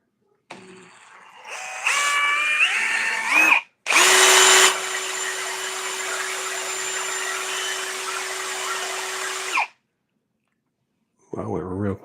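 A small drill whirs in bursts while spinning a toilet paper holder to spool fishing line, rising and holding a steady whine for several seconds before stopping, with a voice speaking over parts.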